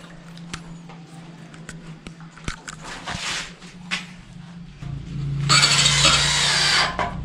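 Screws are driven into a PVC door jamb with a power tool. Scattered knocks and handling clicks come first, then a loud continuous whir of the driver near the end.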